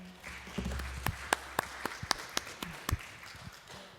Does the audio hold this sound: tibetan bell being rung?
no